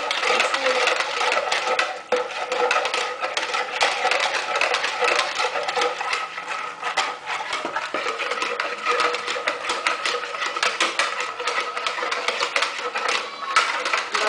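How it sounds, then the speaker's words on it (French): A whisk beats a sugar mixture in a bowl, a continuous dense scraping and clicking that runs steadily throughout, with talking over it. "on doit bien mélanger avec le fouet"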